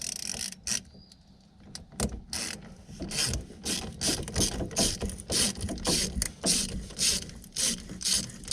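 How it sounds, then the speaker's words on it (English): A thumb drive ratchet turned by hand while working on the radiator hose of a 2000 Dodge Dakota with a 3.9 liter V6, giving close, crisp clicking bursts in quick repeated runs. "Some people call it a thumb drive ratchet."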